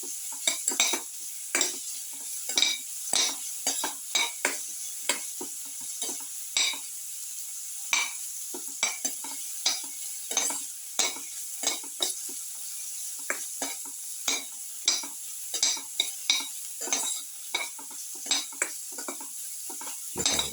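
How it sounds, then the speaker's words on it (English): Sautéing in a pan for a garlic cottage cheese tomato casserole, with a continuous bright sizzle and quick, irregular clicks and scrapes of a utensil stirring against the pan for about twenty seconds, close up and without speech. "Saute."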